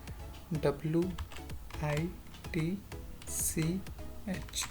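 Computer keyboard typing while a C calculator program using a switch statement is entered in Turbo C: quick, close key clicks in short bursts, interleaved with someone talking.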